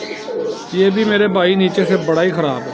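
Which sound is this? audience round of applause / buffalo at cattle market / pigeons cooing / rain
pigeons cooing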